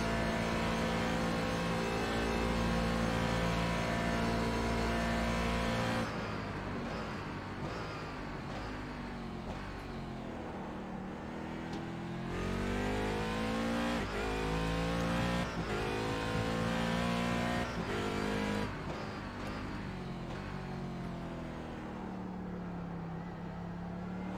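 A sim race car lapping Daytona in iRacing holds a loud, continuous engine drone that rises and falls with throttle and gear changes, steady and close throughout with no voices.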